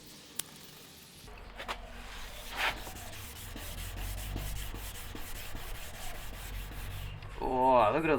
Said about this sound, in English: That way when we're sanding we don't accidentally end up scuffing any of the paint here.